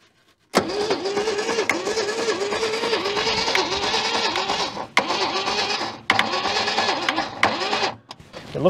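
An old Holden car, left sitting in a junkyard for decades, cranks and catches, its engine rough and loud up close. It runs in several bursts, cutting out briefly between restarts.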